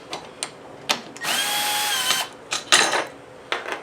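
A small Milwaukee power drill drives bolts while panels are mounted in a barn shed, with a long loud whir and several short bursts and clicks up close.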